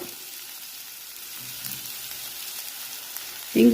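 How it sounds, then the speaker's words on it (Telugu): Onions, green chillies and asafoetida fry in ghee, a faint steady sizzle with a light crackle, ending in a sudden louder clatter. "వేసుకొని ఇవి కొంచెం ఉల్లిపాయలు కొంచెం ఎర్రగా అయ్యే వరకు వేయించుకోవాలి"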